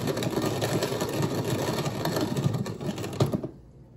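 A coffee grinder crunches through coarse beans with a steady, buzzing whir and rattle, loud and continuous before cutting off near the end.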